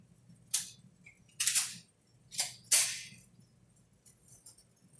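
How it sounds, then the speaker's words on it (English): Glock G23 pistol fired at an indoor shooting match: four sharp reports spaced about a second apart, fairly faint and distant with a low hum beneath, followed by quieter clicks. "this is going to be of me shooting the G23"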